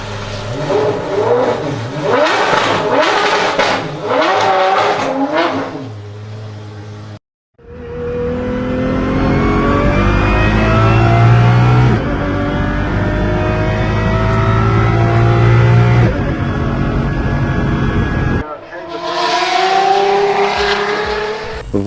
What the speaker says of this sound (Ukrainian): двигун Детамасо P72 має динамічний звуковий характер